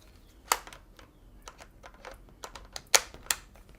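Godox MF12 macro flash units snap onto a ring-flash mounting ring, giving a few sharp, close plastic clicks spread irregularly over quiet handling noise.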